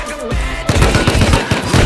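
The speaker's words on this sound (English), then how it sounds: "I was getting shot." Rapid gunfire in the survival game Rust, loud and close, with a burst of repeated shots rattling through the second half after a brief lull.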